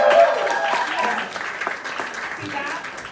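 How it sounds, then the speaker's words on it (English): Audience applause for teachers in a room, a dense wash of clapping that starts loud and gradually thins over about three seconds, with some voices mixed in. "Let's hear it for our teachers in the room."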